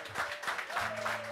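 A live talk-show audience briefly applauds the house band, the clapping faint and short with a sustained musical tone running underneath.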